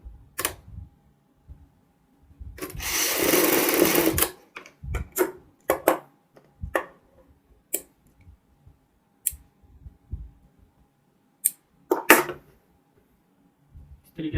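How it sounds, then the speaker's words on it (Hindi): A sewing machine stitches a jacket shoulder seam in one sustained burst, then sounds in short intermittent clicks and taps nearby, with quiet speech in the background. "यहाँ पे शोल्डर के ऊपर सिलाई लगाएंगे"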